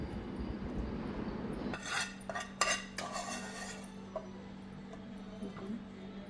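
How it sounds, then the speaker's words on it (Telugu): Garlic tomato curry is served into a bowl: a metal spoon clinks and scrapes against dishware in a few quick bright bursts, close and quiet, followed by softer scattered taps over a faint background hum. "నేనైతే ఒక బౌల్లోకి సర్వ్ చేసుకుంటున్నాను దాన్ని."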